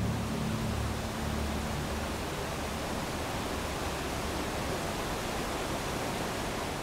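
Large waterfalls between Upper and Lower Kintla lakes in Glacier National Park roar as a steady, dense broadband rush, constant and unbroken throughout.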